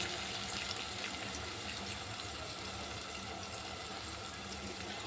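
Tamarind water poured into a pot of drumstick-leaf sambar, a steady close pouring and splashing wash that continues without a break.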